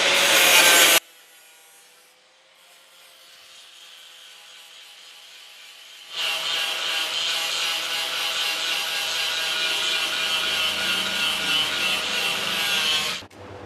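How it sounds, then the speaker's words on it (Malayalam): A second grinding wheel works the edge of a mirror for an LED basin mirror, a loud steady abrasive rasp running continuously after a quieter gap, with a brief burst at the start. "രണ്ടാമത്തെ വീലിട്ടിട്ട് ഗ്രൈൻഡ് ചെയ്യുന്നു"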